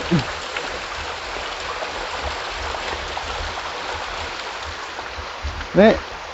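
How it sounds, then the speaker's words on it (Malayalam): A steady rush of flowing water near a temple wall at Lonar crater lake in Maharashtra. It is a continuous, moderately loud hiss, with brief bird chirps at the start and end and faint voices. "ഒരു വെള്ളച്ചാട്ടം വരുന്നുണ്ട്."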